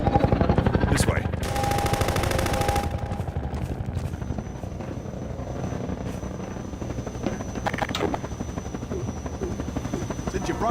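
Combat helicopter in Half-Life 2 Episode 2, its loud rotor drone running throughout beneath bursts of rapid machine-gun fire and gunshots, with scattered voices talking over the battle.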